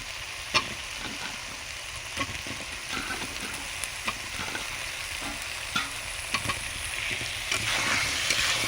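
Chicken and washed potatoes sizzle in mustard oil, a busy continuous hiss and crackle with repeated clinks and scrapes from stirring that stay close and fairly loud, no voices.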